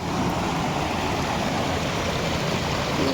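Heavy rain pours down while water floods a courtyard, making a loud, dense, unbroken rushing wash that holds steady throughout with no voices.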